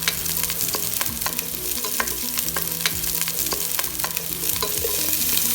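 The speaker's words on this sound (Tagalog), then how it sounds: "Ngayon naman, simulan na natin ang paggigisa." Garlic sautés in a hot pan for beef and liver kaldereta, a dense steady sizzle broken by frequent sharp clicks and scrapes of stirring, close and loud with no voices.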